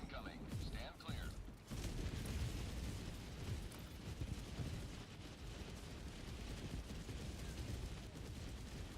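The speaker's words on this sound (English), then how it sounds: "Orbital barrage incoming. Stand clear." An orbital barrage in a video game pounds down as dense, rumbling explosions, a loud continuous roar of blasts with sharper bursts at the start, close and overwhelming.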